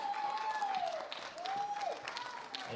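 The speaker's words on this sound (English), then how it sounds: "Big round of applause for our three winners, ladies and gentlemen, our Masters 4 lifters." Audience applause for the Masters 4 bench press winners at a world championship in the 93 kg class, steady clapping throughout with a tonal whistle-like sound sweeping over it.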